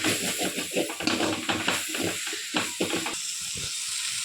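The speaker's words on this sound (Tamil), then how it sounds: "புதினா கொத்தமல்லியை வந்து நம்ம ஆட் பண்ணிக்கிறோம். சேர்த்து நல்லா வதக்கணும்" Mint and coriander leaves sauté in a pan for chicken biryani, giving a soft hiss and sizzle broken by repeated stirring and scraping in uneven bursts, which fade into a quieter steady sizzle.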